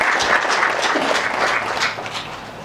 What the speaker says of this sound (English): So if I may ask for one more warm heart of applause for Mr. Mashalo.